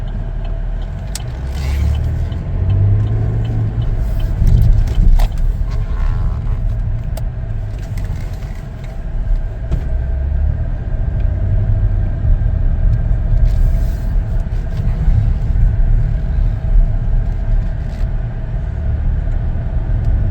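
Interior road noise from a 2021 Chevrolet Traverse LT on a test drive, a steady low engine and tire rumble that holds evenly for about twenty seconds with no talking.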